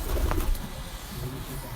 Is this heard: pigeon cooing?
yes